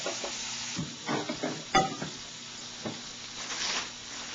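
Creamy Alfredo sauce heating toward a boil in a pan on the stove, with soft bubbling and sizzling plus a few brief stirring scrapes and clinks, fairly close and moderately quiet, no voices.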